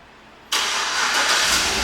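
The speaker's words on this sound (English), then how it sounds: "the car starts right up" A 2011 Chevrolet Avalanche LTZ starts by remote start: quiet at first, then the engine catches abruptly with a loud burst and settles into a strong, steady idle, close by.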